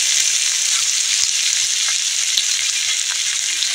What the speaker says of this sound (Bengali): ছোট চামচে রসুনটা দিয়ে এইভাবে ভেজে নেব